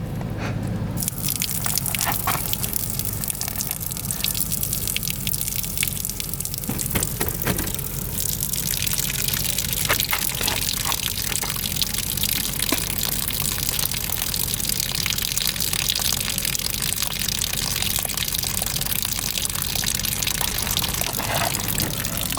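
Water drips and trickles steadily out of a boat for a long stretch, a close, continuous draining sound with scattered splashes and a low background hum.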